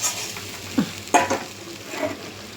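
Chilli sizzles and fries in a pan for rohu fish curry, a steady crackle broken by a couple of sharp clinks and scrapes of stirring.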